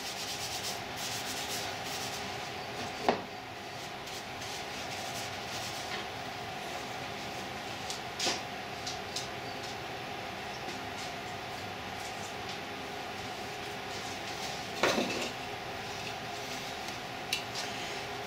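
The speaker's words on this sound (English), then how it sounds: "we'll start polishing these now with Yorkshire grit. Turn the speed up there." A wooden fountain pen is polished with Yorkshire grit on a spinning lathe. A faint, steady rubbing whir continues throughout, broken by a few sharp clicks and knocks.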